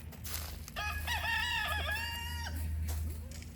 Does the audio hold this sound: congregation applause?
no